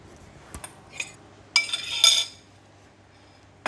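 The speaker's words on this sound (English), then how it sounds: "I'm going to use a spatula to push the egg inside like that." A spatula pushing egg around a hot pan with garlic oil: a few light clinks, then two bright scraping bursts of metal on the pan over a faint sizzle, close, no talking.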